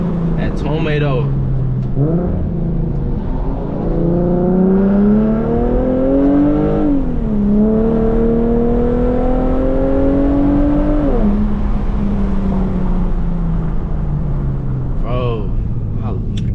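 Infiniti G37 coupe with a full titanium Tomei exhaust accelerates hard, the engine note rising through a pull, briefly shifting and climbing again, then settling, loud and close throughout.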